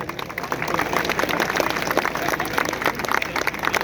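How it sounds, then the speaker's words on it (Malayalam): Applause from a crowd at a rally of a Christian diocese protest, a sustained dense clapping texture that stays steady throughout. "നമുക്ക് കൈയടിക്കാം."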